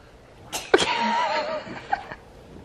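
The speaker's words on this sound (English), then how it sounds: "Yeah, I got the sneeze." A single close sneeze in a quiet home, a sharp burst followed by a short trailing breathy exhale.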